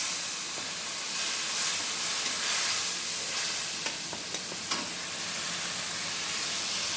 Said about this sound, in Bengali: এটাকে ভালোভাবে নাড়াতে হবে। আচ্ছা, মশলা কিন্তু খুব ভালোভাবে কষাতে হবে।